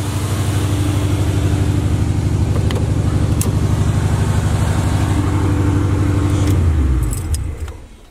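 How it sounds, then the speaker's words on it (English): A Box Chevy's engine runs loud and close with a steady, rumbling idle and a few light metallic clinks, then winds down and cuts off near the end, with no talk. "I'm gonna turn it off and crank it up one more time"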